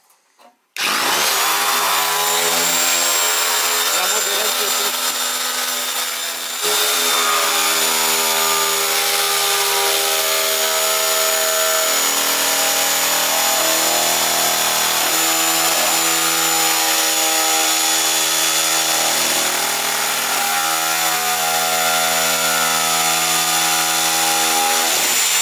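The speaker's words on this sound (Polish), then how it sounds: "Jeżeli chodzi o blachę, według mnie to jest naprawdę najlepsza piła." A power saw slices through sheet metal during Land Rover body repair, a loud continuous whine running steadily for over twenty seconds with slight shifts in pitch as it follows curves.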